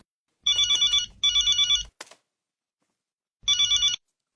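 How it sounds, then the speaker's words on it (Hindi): A telephone rings in clear repeated bursts, two long trills close together, a brief click, then another trill after a pause. "अरे मेहता साहब को फोन कर रहा हूँ।"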